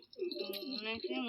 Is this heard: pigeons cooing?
yes